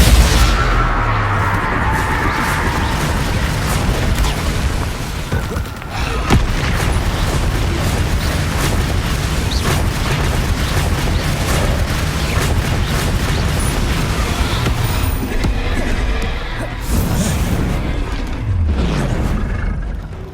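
Magic spell blasts from Confringo and Bombarda erupt in the video game Hogwarts Legacy, a loud, dense barrage of booms and bursts rolling almost without pause, with brief dips in the din.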